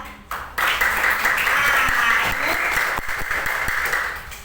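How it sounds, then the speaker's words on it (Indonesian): Participants in a coding and artificial intelligence teacher-training session burst into applause, a sustained wash of clapping that starts abruptly, holds steady and then thins toward the end. "Ya, beri tepuk semuanya"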